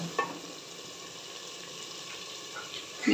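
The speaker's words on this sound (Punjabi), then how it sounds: "ਹੁਣ ਅਸੀਂ ਪਾਉਂਦੇ ਹਾਂ ਇਹਦੇ ਵਿੱਚ ਪਾਣੀ" Water is poured into chickpeas frying in ghee, giving a soft continuous sizzle with brief louder splashes and bursts at the start and near the end.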